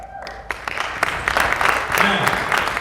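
An audience breaks into applause at a distribution-industry gathering, clapping building after a faint start into a dense, steady round, with some voices mixed in underneath.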